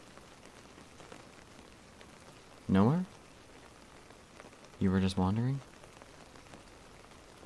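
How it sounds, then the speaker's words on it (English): Steady light rain falls throughout, a soft even patter at low level, with two short bursts of someone speaking over it. "In the rain."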